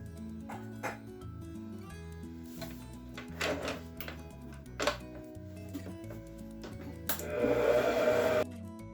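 An electric mixer blends sugar into eggnog pound cake batter: a steady whirring motor hum with periodic knocks against the bowl, then a louder, harsher burst of beating near the end. No voices.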